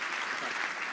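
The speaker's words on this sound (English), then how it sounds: "Please give him a round of applause." Brief burst of audience applause at a talk, many hands clapping together in a dense, moderately loud wash with no voices.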